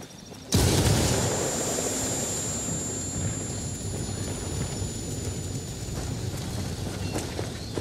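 A frag grenade in Ghost Recon Wildlands goes off with a sudden loud blast, followed by a long rumbling decay and a thin high ringing tone that lingers for several seconds.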